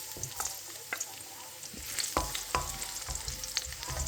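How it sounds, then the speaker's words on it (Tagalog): Spices and aromatics sauté in a hot pan for gisadong sotanghon, a bright sizzle broken by several sharp scraping strokes of a spoon against the pan. "magsugod na ta og gisa sa atong panakot"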